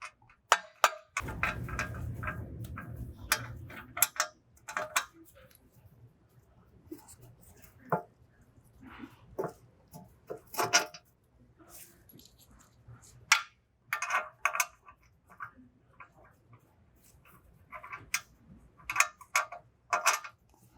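M12 bolts are fed by hand into the rear wheel bearing hub of a 2015-2021 Volkswagen Mk7 Golf R: scattered metallic ticks and light clinks, with a short rumbling burst near the start and quiet gaps between the taps.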